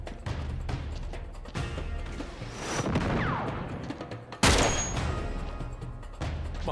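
Enemy gunfire in the video game Uncharted 3, with sharp bursts and heavy impacts over a dense, rumbling battle background, loud and continuous, including one strong blast near the middle.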